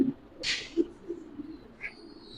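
Pigeons on a large pigeon farm give a few soft, low coos, faint and brief, against a quiet background.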